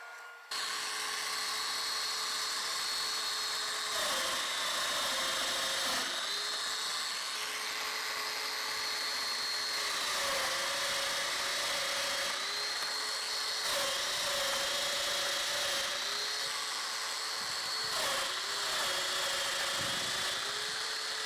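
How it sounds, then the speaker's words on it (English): A drum sander runs on glued-up wood, giving a loud, high, steady whine with a motor hum underneath, near and continuous, and pitch dips recurring every few seconds as stock passes through. "then we'll run it through the drum sander"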